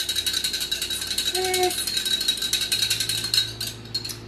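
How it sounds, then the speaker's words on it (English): Oil, balsamic vinegar and seasonings are whisked in a bowl for a dressing, giving a quick, steady clicking and rattling rhythm at close range that runs unbroken throughout. "Whisk, whisk, whisk."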